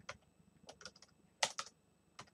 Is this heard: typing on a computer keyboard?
yes